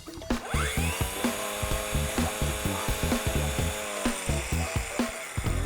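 A small, lightweight cordless household grass trimmer runs steadily and fairly quietly, its motor whirring with repeated rhythmic pulses and scraping bursts as the line cuts, close to the listener with no talking.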